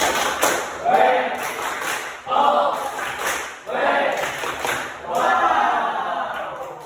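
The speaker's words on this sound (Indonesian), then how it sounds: "Untuk kelompok 1, kasih tepuk wow." A group in a classroom does a rhythmic clap routine, with several bursts of clapping and thumps separated by short pauses, and voices chanting along with the claps.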